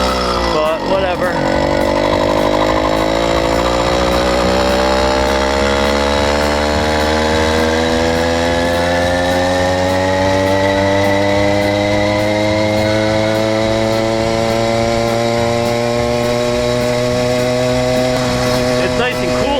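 A homemade 80cc motorized bicycle engine runs while riding, a loud buzzing two-stroke drone whose pitch climbs steadily as the bike accelerates, close and continuous with wind rush.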